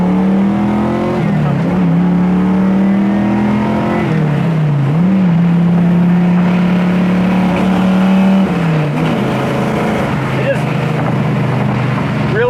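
A 1970 Camaro Z28 engine revs hard and pulls through the gears. The loud droning note climbs, drops at each shift and climbs again, with some wind noise over the top.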